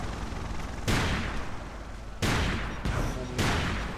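Loud bursts of gunfire in Ace of Spades, a Minecraft-style shooter game, three rapid volleys separated by short gaps, with a low background hum between them.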